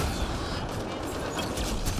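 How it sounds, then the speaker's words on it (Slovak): Rapid burst of crackling blasts from a fire combo explosion in Mass Effect Andromeda, a dense, sustained volley of pops and bangs with no talk over it. "Tak, zapálený a výbuch. Krásne fire combo."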